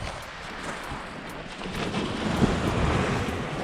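Sea waves wash against the coast with gusting wind, a broad rolling roar that swells louder in the second half, close and continuous with no voices.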